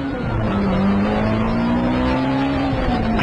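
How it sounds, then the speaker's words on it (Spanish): A car speeds frantically down a street, its engine a steady, loud drone that rises slightly in pitch as it accelerates, continuous throughout. "Sube a su auto y avanza enloquecida por la calle."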